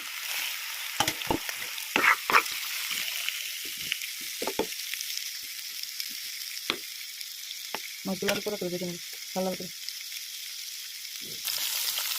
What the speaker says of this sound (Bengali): শিম মাছগুলো ভেজে নেব ভালো করে তেলে ভেজে নেব